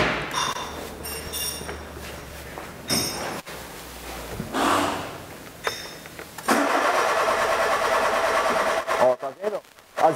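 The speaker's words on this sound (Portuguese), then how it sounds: "Vou lá fazer a partida lá no motor para vocês verem." A Peugeot 207 engine with a faulty engine speed sensor cranks and catches, then runs at a steady rumble close by, with brief clinks and a person talking earlier in the clip.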